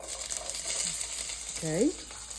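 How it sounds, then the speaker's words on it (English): Onions, thyme and scallions sizzle in a hot pan for a vegetarian chili, a steady close crackle and hiss with a brief stirring scrape and a short tonal squeak partway through. "I'm just gonna saute my vegetables here all together"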